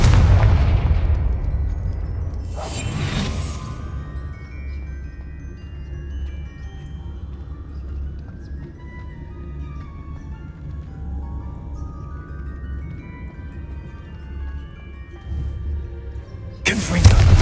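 Confringo explosive spells cast in Hogwarts Legacy: a few sharp, loud blasts near the start and end, with a softer game music bed carrying on between them.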